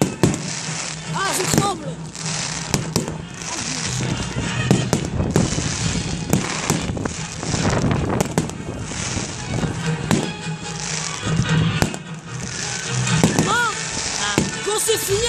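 A fireworks display at Veules-les-Roses bursts in dense, continuous rounds of loud booms and crackles throughout, with people talking and exclaiming over the blasts.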